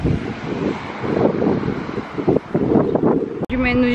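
Wind blows outdoors in a commercial district in France, buffeting the microphone with a steady rumbling roar and gusts, while voices murmur faintly in the background.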